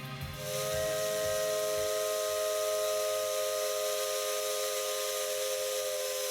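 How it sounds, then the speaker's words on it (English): Steam locomotive whistle from the video game Maitetsu sounds as a long, steady, loud shrill tone with a hissing steam rush, holding unbroken for several seconds after a brief low rumble at the start. "I sound off the steam whistle."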